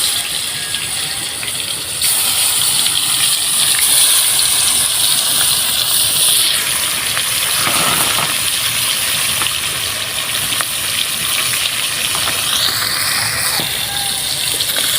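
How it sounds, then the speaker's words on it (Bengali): Pieces of pangas fish sizzle in hot oil in a village kitchen, a steady loud hissing crackle that runs almost unbroken throughout, with a brief surge partway through. "এখন এক থেকে শেষ করে গরম তেলে এই মাছ ছেড়ে দিব।"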